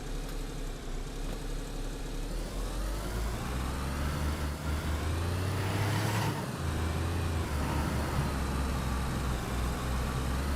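Car engine driving in the DayZ survival game on the Chernarus map, a steady mid-pitched motor drone that rises and falls with throttle changes and swells midway, continuous and close with no talking.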